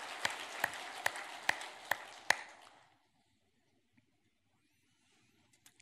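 A church congregation at a Sunday service claps in a dense burst for about three seconds after a choir performance, with a few sharp louder claps, then it fades to near silence.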